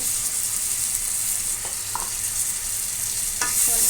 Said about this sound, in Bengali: টমেটোর সাথে পেঁয়াজ কুচিগুলো ভালোভাবে মিক্স করে নেব হালকা জল দিয়ে কষিয়ে নেব